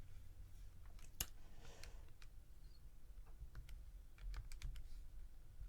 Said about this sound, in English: And if I type that all into my calculator